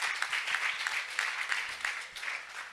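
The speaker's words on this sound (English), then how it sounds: "can we give a big round of applause to Project Intern?" Applause for a startup pitch at a university demo day, a light, uneven round of clapping with distinct hand claps standing out, fairly quiet and a little distant.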